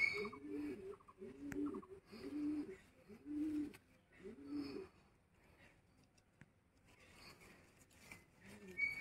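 A male pigeon, a chotial of the doaz line, gives a series of about five rhythmic coos near the mic, then falls quieter while faint voices murmur in the background.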